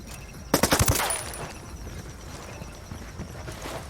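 A loud, close burst of automatic gunfire rattles out in the Ghost Recon Wildlands video game, roughly half a dozen rapid shots, then fading into scattered quieter shots and background ambience.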